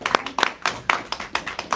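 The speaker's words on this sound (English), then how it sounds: "So big round of applause." A small group claps during a gratitude gathering at a bhakti school, producing distinct, closely spaced hand claps in an uneven rhythm, near and fairly loud, with no talking.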